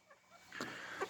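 A chicken sick with Marek's disease gives a couple of soft, brief clucks, faint and close in a quiet setting.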